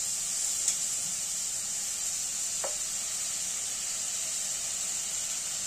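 Onion frying in hot oil gives a steady, even hiss of sizzling that holds at a moderate, close level throughout, with one brief faint squeak midway.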